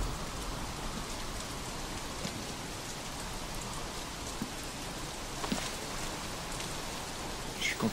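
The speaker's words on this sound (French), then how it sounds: "Reste pas dehors sous la pluie" Steady rain falls outdoors, a dense even hiss of drops with a few sharper nearby patters and no talking.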